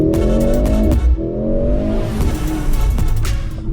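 Mercedes C63 sedan, a 2.1-ton hybrid, driven hard on a tight autocross track: loud engine revving that rises and falls through gear changes, with tire squeal and skidding, heard close.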